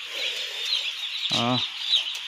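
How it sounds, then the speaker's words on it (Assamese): Newly arrived farm chicks on their first day fill the space with a dense, steady chorus of high cheeping, and a brief louder harmonic call stands out near the middle. "চাওক ফাৰ্মৰ পোৱালিবোৰ আজি প্ৰথম দিন অলপ আগত আহিছে"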